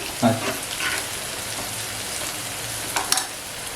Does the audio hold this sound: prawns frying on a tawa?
yes